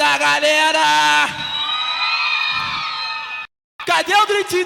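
A crowd at a live Brazilian funk show in 2005 at Clube Dom Bosco in Cuiabá screams and cheers loudly in long, sustained whoops and yells that briefly cut out before swelling again.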